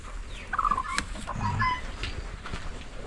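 Hens cluck softly near freshly laid eggs in a small farm coop, a few short clucks and calls standing alone against quiet background noise.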